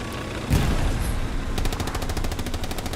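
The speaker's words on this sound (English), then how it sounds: "Oh, another rocket!" Rocket artillery strikes land in the World War II shooter Hell Let Loose: a heavy explosion booms up close, then a rapid, evenly spaced burst of automatic gunfire rattles on loudly.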